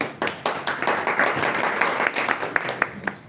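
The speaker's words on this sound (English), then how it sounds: "Please clap for him firstly." An audience at a celebration event applauds the second-place participant with brisk, continuous clapping from many hands close by, tapering into a few scattered claps.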